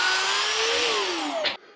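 A custom-built multi-drill machine runs loudly and steadily, its whine rising then sliding lower as the bits bore through, before cutting off abruptly near the end.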